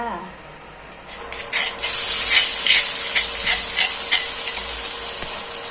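Chicken being stir-fried with holy basil for Thai pad krapow in a home kitchen: a quiet start, then a loud sizzle and hiss bursts in as ingredients hit the hot pan, with rhythmic stirring and scraping over continuous frying.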